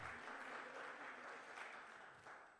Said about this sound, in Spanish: Dele aplauso al Señor, hermano.